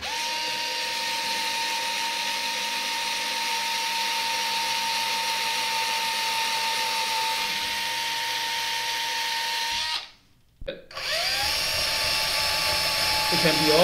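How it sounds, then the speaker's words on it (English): Fanttik Nex L1 Pro electric screwdriver pre-drilling with a hex drill bit, heard as a steady close motor whine for about ten seconds that stops briefly, then starts again with a changing pitch. "Let's pre-drill using the hex drill bits."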